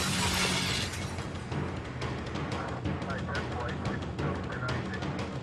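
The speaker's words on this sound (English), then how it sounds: "That's when they break the glass." Glass shattering at a McDonald's as police break in at a crime scene, a burst of crashing glass followed by scattered sharp impacts and tinkling debris, with voices talking over it.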